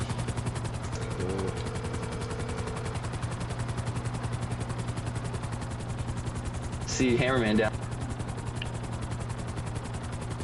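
Helicopter in a racing video game, a steady close rotor drone with a rhythmic chop throughout, a brief voice speaking partway through over it.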